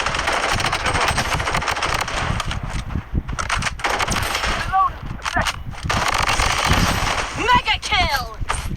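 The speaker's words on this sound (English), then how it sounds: "Like the new gun of the game is MP5" An MP5 fires in a video game as rapid, continuous bursts of automatic gunfire, loud and close, with a player talking over the shooting throughout.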